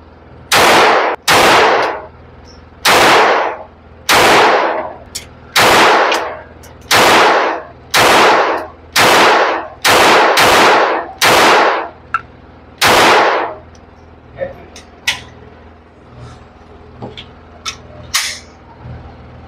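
TX22 pistol fired unsuppressed, about a dozen loud, sharp reports at a steady near-regular rhythm over roughly thirteen seconds, followed by quieter clicks and handling noise.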